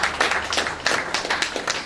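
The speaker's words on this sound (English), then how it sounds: "can we please clap for her and celebrate her?" Audience applause at a business opportunity expo, a steady wash of many hands clapping close by, rising and falling in quick bursts with no voices over it.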